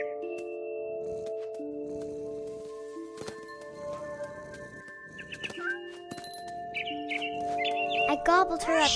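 Bird chirps from a PS4 video game, scattered short calls over a steady layer of game music and ambient tones, with narration running throughout and a busier burst of chirping near the end.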